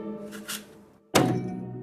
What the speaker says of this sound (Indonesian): Suara kulkas dibuka.